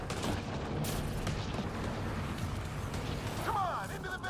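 Enemy gunfire in Mass Effect Andromeda rattles in quick, dense bursts under game combat noise, with voices talking over the shooting.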